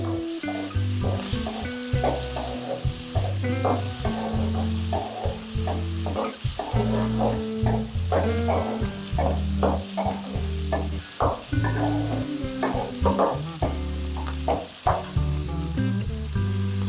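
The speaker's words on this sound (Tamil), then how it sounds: "அப்போதே தக்காளி எல்லாம் நல்லா வதங்கி வரும்." Steady sizzling of onions and tomatoes sautéing in a clay pot, with repeated scraping and stirring clatter throughout, close and moderately loud.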